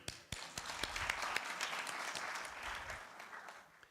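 Faint, scattered clapping from an audience at a university innovation week and industry summit, with individual claps standing out sharply before fading toward the end.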